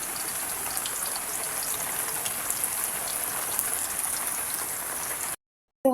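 Heavy rain pouring down outdoors, a dense steady hiss of drops hitting surfaces that continues unbroken for several seconds before cutting off abruptly.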